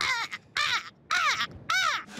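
Seagulls give four harsh, drawn-out calls in a row, loud and close, each a rising and falling squawk with short gaps between them and no voices.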